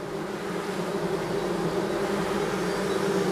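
Honeybees moan inside a hive, a steady, dense droning hum that holds without break and fills the space alone.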